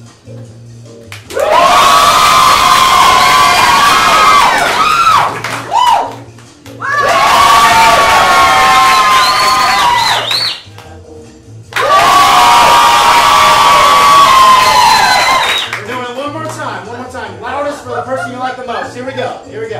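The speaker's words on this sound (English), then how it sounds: "stomping your feet, clapping, cheering, whatever you'd like, and whoever gets the loudest applause will be our victor" A live dating-show audience erupts in three long bursts of loud cheering, clapping and foot stomping, each lasting several seconds with brief pauses, close and roaring; a host speaks over the crowd between and after the bursts.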